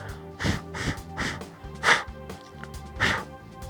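Several soft breathy puffs of air blown close into a Comica Boom X-D wireless microphone fitted with a wind muff, spaced unevenly, each a short dull whoosh with little wind rumble.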